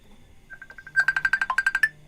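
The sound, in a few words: Facebook Messenger phone ringtone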